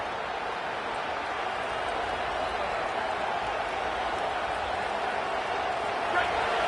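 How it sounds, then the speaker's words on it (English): Stadium crowd noise in the College Football 27 video game swells into a continuous, dense roar during a Kansas State third-down defensive stand, filling the whole stretch evenly without breaks. "Decibels rising as the crowd gets behind this defense on third down."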